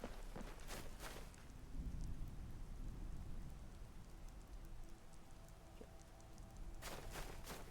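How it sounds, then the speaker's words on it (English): Rain and thunder in the video game Skyrim: steady rainfall hisses throughout, with low rolling thunder swelling midway and sharp crackling bursts at the start and end. "I wish it would stop raining, though. Very least, the dang heckin' thunder could chill out for a bit."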